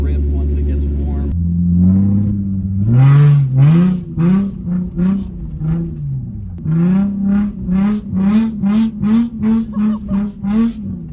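A widebody Nissan 350Z with its front bumper removed idles, then is revved hard again and again in a series of loud, close engine blips that rise and fall, coming faster toward the end.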